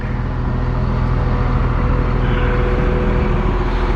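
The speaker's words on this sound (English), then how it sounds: "I'll go ahead and shut the truck off." A parked truck engine idles steadily, running to recharge truss winches, giving a constant low drone with a faint buzzing hum, close by and unbroken throughout.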